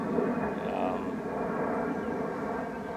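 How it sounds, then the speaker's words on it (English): A plane passes overhead above thick tea tree scrub, heard as a steady distant engine drone that stays fairly even and low throughout. "That plane that you can hear"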